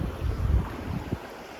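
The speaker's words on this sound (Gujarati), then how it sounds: "જો કેવા મોજા આવે." Sea waves wash onto the shore on a coastal flat where crabs are caught, heard as a low, rolling surge with wind buffeting the microphone and a small splash near the end.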